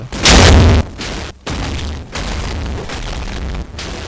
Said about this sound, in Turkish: Kulenin üstündeki bombalar bir anda patladı.